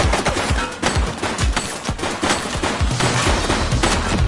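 Dense bursts of rapid gunfire in The Precinct, a police video game, crackle loudly and close in an almost continuous volley over a few seconds.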